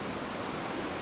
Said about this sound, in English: The only problem we got here is there's a little too much white water.